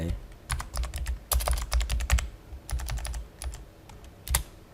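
Quick, uneven keystrokes on a computer keyboard come in close bursts with short pauses, clicking sharply over a low background hum while someone enters text into a database program.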